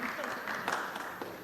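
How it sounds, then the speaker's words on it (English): An audience applauds at a pharmacology conference session in India, a dense, continuous patter of clapping hands filling the room for a brief moment. "Please have a big round of applause for her."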